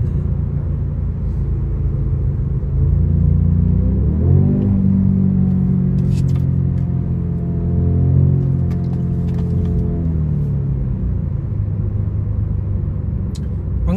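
A Korean car driven in Sport Plus mode, its engine rumbling loudly and steadily from inside the cabin, rising in two revving swells with a few faint crackles, no talk.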